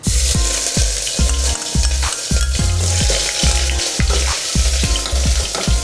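Ginger garlic paste frying in hot oil after mustard seeds have popped, a loud, steady sizzle close up with rhythmic stirring scrapes throughout, no talking.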